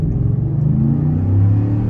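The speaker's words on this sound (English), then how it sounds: "this V8 sounds way better than the new generation" Ford F-150 13th-generation truck's V8 engine idling steadily, a deep, loud, continuous low rumble with a slight swell toward the end, heard alone without talk.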